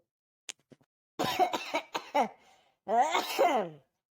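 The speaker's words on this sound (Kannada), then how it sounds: "ಈ ಹಾಳಾದ್ ನನ್ನ ಮಗುಂದು ಕೆಮ್ಮೆ ಹೋಗ್ತಿಲ್ಲ" Coughing in an animated village comedy, with a couple of small sharp coughs followed by a cluster of harsh, close coughs and a longer rough voiced burst.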